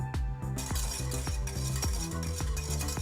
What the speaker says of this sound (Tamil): க்ரீமை நல்லா கலந்து விட்டு ஒரு கால் கப் பால் ஊற்றுங்க